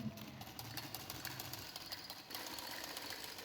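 A sewing machine stitches the gathered hem of a side-panel baby frock, a steady close mechanical whirr running throughout with a brief slight dip before it continues.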